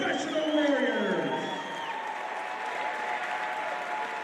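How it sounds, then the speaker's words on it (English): Crowd applause at a professional MMA-style fight between Hunter Watt and Max Metzgar, a dense sustained roar of clapping with some cheering that swells loudly at first and stays steady, while an announcer's voice carries over it. "a big round of applause for both of these professional warriors"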